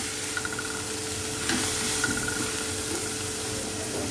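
Finely chopped tomato stirred in a hot pan, a steady close sizzle with a few spoon scrapes and clinks through the stirring.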